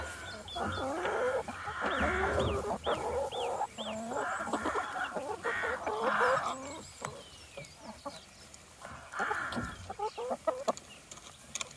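Chickens cluck and peck around a new port feeder on an Irish homestead, with several birds calling close by in bursts, sharp pecking taps, and quieter stretches between.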